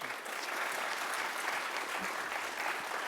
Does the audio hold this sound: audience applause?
yes